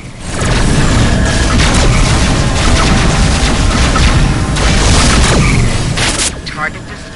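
Loud, dense explosion blasts as an enemy ship is destroyed in the space combat game Rebel Galaxy on PS4, a sustained rumbling boom with crackling bursts throughout, layered with game audio.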